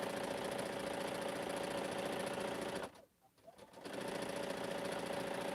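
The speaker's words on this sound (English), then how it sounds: "These seams are pretty thick I'm sewing through." Sewing machine stitching through thick quilt seams, a close, steady whirring hum with a fast rhythmic chatter that stops briefly near the middle and then resumes.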